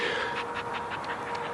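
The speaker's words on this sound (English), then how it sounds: "That's the dog panting, not me." Rapid, breathy panting from a dog, a steady run of quick huffs close by with a faint background hum.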